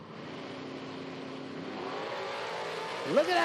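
Drag race cars launch at an IHRA Outlaw Nitro Series Pro Am event, an 08 Chevy Cavalier against a 96 Camaro SS; engines drone and rise steadily in pitch, then surge loudly with a sharp gear change near the end.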